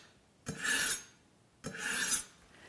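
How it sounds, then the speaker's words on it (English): Kitchen IQ manual sharpener, two strokes of an Asian-style knife drawn through the fine slot, each a bright rasping scrape lasting about a second, close and clear with quiet between. "I will focus only on the fine slot to make sure I realign that blade. Probably about 5 to 10 pulls."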